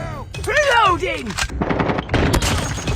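Pistol shots in a video game firefight, loud sharp reports and rapid impacts mixed with a shouted in-game voice near the start.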